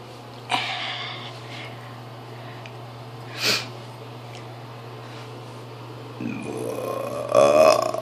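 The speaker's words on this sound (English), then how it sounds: "My nose is running because I'm burping so much." A few short throaty bursts, burps or snorts, spaced apart over a steady low hum, with a louder rough burst near the end.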